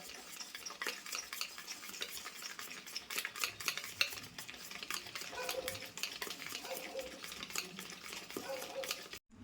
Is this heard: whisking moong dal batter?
yes